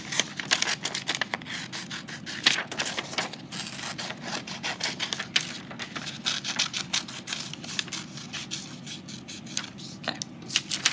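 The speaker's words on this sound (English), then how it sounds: "I'm gonna cut out one more blank one." Scissors snipping out paper letters and a blank circle shape, a dense run of close, crisp cuts and rustling paper that carries on steadily with no talking.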